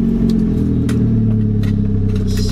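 A Moskvich 412 fitted with a 2.0 turbo engine drives along, its low engine drone loud and continuous from inside the car, with faint clicks and rattles above it.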